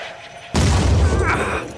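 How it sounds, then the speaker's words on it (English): Grenade blasts in the tactical video game Phoenix Point: after a low, quiet stretch comes a sudden heavy boom with a rumbling tail and crackling debris that fades over about a second. "I love explosions."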